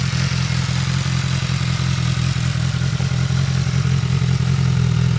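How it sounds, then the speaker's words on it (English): Loud, steady mechanical drone of a 2018 BMW S1000 XR motorcycle engine through its stock exhaust, heard up close and continuous with a slight clattering texture throughout. "that's the stock exhaust on it"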